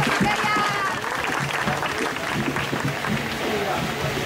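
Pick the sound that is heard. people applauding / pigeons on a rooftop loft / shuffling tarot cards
people applauding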